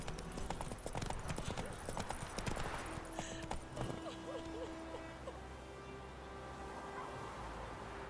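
Roach, the horse in The Witcher 3, trots with quick rhythmic hoof clops that fade into a softer ambient bed with hooting calls, a brief voice heard over the start.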